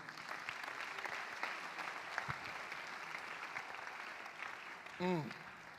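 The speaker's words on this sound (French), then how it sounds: "Applaudissons pour le Seigneur." A congregation at a French-language mass prayer meeting applauds, a fairly faint, steady patter of many hands, with a brief voice rising over it near the end.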